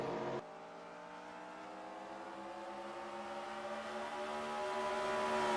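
Race cars lapping a track in the NASCAR 2003 video game at Nazareth, a steady high engine drone with layered rising harmonics that climbs gradually in pitch and loudness, with no voices over it.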